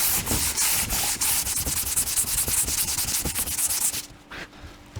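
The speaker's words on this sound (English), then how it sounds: "Get it pretty perfect to your panel, and then just do your scuffing lightly. Cross hatch it." Hand-scuffing a car body panel with 80 grit sandpaper in a cross-hatch gives close, rapid rhythmic rasping strokes that stop abruptly near the end.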